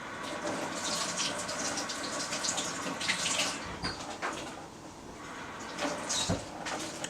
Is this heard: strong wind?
no